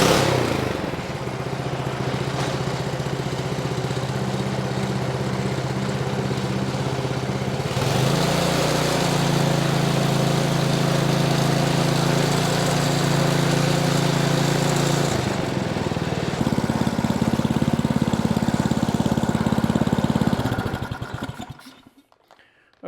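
Ariens snowblower with a Briggs & Stratton engine runs steadily after a carburetor replacement, a close, even mechanical drone that shifts pitch a couple of times before cutting off at the end.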